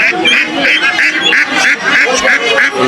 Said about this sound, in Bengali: প্রচুর হাঁসও কিন্তু আমদানি হয়েছে দেখেন এই পাশ জুড়ে পুরোটাতেই হাঁস নিয়ে পড়ছে